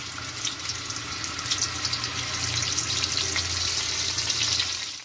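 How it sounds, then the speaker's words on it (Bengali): Cauliflower florets frying in hot oil for a roast dish, giving a steady, loud, continuous sizzle with dense crackling that holds throughout, with no talking. "আমার তেল গরম হয়ে গেছে, আমি এবার ফুলকপিটা ভাজা বসিয়ে দিলাম"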